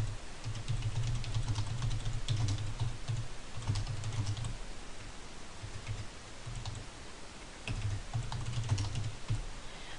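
Steady typing on a computer keyboard runs in bursts of quick key clicks with brief pauses, fairly close and clear, while a research mind map is being built.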